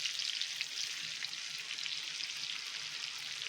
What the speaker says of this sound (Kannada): ಫಿಶು ಮೀಡಿಯಮ್ ಫ್ಲೇಮಲ್ಲೇ ಬೇಯಿಸಬೇಕು. ಆ ಕಡೆ ಈ ಕಡೆ ತಿರುಗಿಸಿ ಫ್ರೈ ಮಾಡ್ಕೋಬೇಕು.